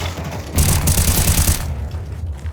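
Video game gunfire and grenade blasts arrive as a dense, loud burst of rapid shots lasting about a second, then fade into a lower rumbling tail.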